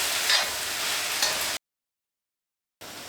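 Tomato sauce sizzles gently in a frying pan as a sturdy spoon stirs it around, a soft bubbling hiss with light scraping, broken by a sudden stretch of dead silence.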